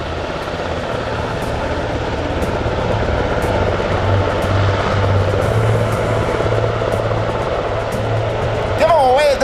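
An RCAF CH-148 Cyclone helicopter hovers during a hoist at an air show, its steady loud rotor and engine roar continuous throughout while an announcer talks over it.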